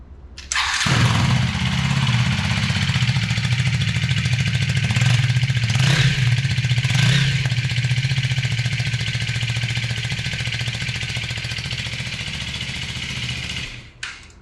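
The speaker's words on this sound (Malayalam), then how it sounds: "ഞാൻ ഇതിൻ്റെ ഒരു എക്സോസ്റ്റ് നോട്ട് കൂടി നിങ്ങൾക്ക് കേൾപ്പിച്ചു തരാം." Husqvarna Vitpilen 250 motorcycle engine starting up, then idling steadily close by with a few quick throttle blips rising over the exhaust note before it cuts off near the end; no talking.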